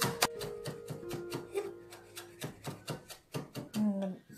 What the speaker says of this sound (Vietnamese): Rồi cái trái ớt này á thì mình sẽ bầm nhuyễn nó ra.